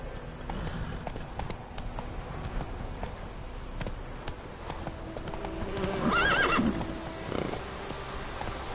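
A horse gallops in The Witcher game, steady hoofbeats clip-clopping throughout, with a sharp neigh rising briefly near the end over the rhythm.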